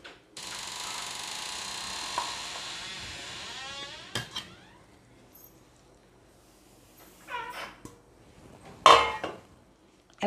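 Coconut milk murukku dough is mixed in a vessel, first as a steady, close rubbing and scraping hiss for several seconds, then as a few scattered clinks and knocks against the container.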